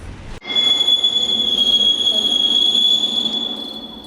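A train brakes to a halt just outside a station, heard as a story sound effect: a loud, sustained high wheel squeal over rumbling rail noise that sets in abruptly after a sharp start.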